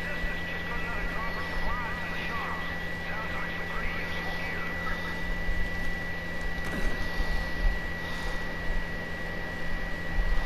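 An airplane engine in Far Cry 5 drones steadily throughout, a constant engine hum under talking voices.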